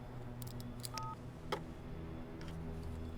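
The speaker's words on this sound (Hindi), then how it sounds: "अगर आप बुरा ना माने तो मैं फ़ोन स्पीकर पर रखूँगा।" Telephone dialing on a speakerphone in a dubbed Hollywood action film: a short pair of steady dial tones near the middle, set over a continuous low hum and background music, with no talking.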